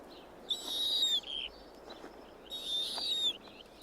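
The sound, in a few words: owl calling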